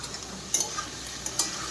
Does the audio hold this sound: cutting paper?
no